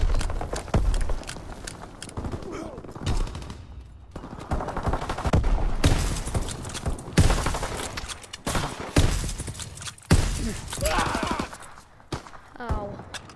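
Rapid bursts of gunfire from Call of Duty WW2 crackle in dense, overlapping volleys across the whole stretch, loud and close, with a voice talking intermittently between the shots.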